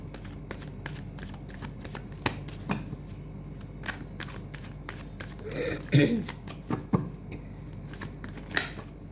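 A deck of tarot cards being shuffled by hand: a run of quick riffling flutters and soft card slaps, with a faint muffled voice during part of it.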